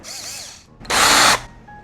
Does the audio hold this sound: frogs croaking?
no